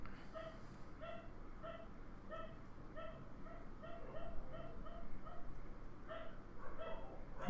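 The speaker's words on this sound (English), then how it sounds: "let's wait for a second, let the dog stop barking" A dog barks repeatedly in a steady rhythm of short, evenly spaced barks. It sounds somewhat distant and muffled, as if coming from outside, with no one talking over it.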